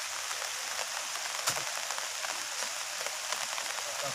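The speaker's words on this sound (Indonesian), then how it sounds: "Hujan kata pade." Steady hiss of rain falling on leaves in a forest, with occasional louder drops pattering close by; no voices.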